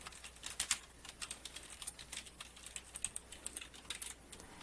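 Someone types code on a computer keyboard, quick irregular clicks of keys close to the microphone, with quiet pauses between bursts.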